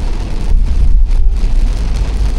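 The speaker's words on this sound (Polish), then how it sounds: "Pół kilometra przez most. Ulewa jak nie wiem." A heavy downpour hits a car driving across a bridge on the island of Krk, Croatia. A loud, continuous rush of rain and road noise fills the whole stretch, with no talk.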